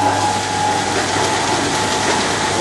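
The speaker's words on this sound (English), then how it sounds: "So we've got a little electric motor up there." A small electric motor drives line-shaft machinery in an old forge machine shop, giving a continuous mechanical whir with a faint rapid clatter of pulleys and gears, steady and fairly loud throughout.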